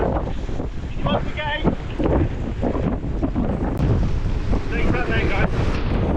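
Strong wind of about 60 miles per hour roars past a boat at sea near Pebble Island in the Falklands, a loud, constant gusty rush with wind buffeting the microphone and waves splashing throughout.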